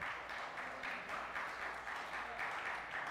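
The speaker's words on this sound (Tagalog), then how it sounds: "sige po, tuloy natin palakpak sa Lord" Congregation applauding during a church service, steady continuous clapping from a crowd at moderate distance, fairly faint and even throughout with no voices standing out.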